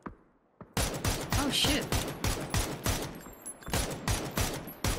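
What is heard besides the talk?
gunshots in the video game PUBG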